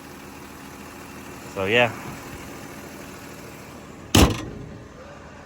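A Mercedes-Benz C230 engine idles at a steady low hum nearby, with a short spoken remark partway through and a sharp clunk near the end.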